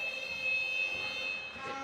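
A shot clock buzzer sounds at a 2021 FIBA AfroBasket preliminaries basketball game between Burundi and South Sudan. It is a steady, fairly quiet electronic tone that holds for over a second against faint arena noise, with no talk over it.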